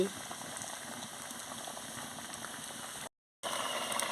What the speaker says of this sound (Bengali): দেখুন কি সুন্দর ফুটছে টকবক করে